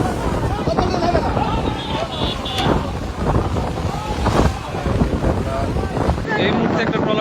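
Storm wind buffets the microphone on the rough Padma river near sinking cement-laden trawlers, a loud, gusty roar with surging bursts throughout.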